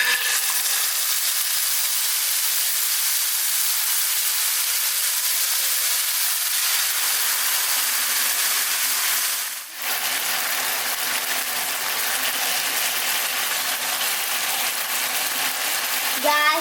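Marinated chicken frying in hot oil gives a steady, broadband sizzle that hisses evenly throughout, with a brief dip partway through before the crackle resumes.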